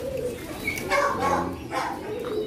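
Homing pigeons coo in a loft, a continuous soft burbling of low, throaty calls, close by, with faint background noise.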